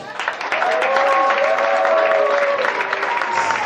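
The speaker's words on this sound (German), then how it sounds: "Bitte begrüßen Sie mit einem herzlichen Applaus einer unserer heutigen Gastgeber, der Spitzbub Willi Mölders" Audience applause at a German stage comedy show, a steady wash of clapping that swells after the first half second and holds loud through to the end.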